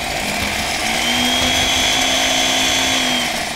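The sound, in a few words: blender blending juice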